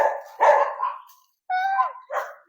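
Dogs bark in a short burst of a few sharp, nearby barks, one drawn into a whiny yelp, with brief gaps between.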